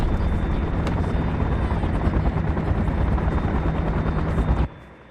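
Helicopter in the Lego City Adventures cartoon, a loud, steady rotor roar that fills the scene without letup before cutting off sharply near the end.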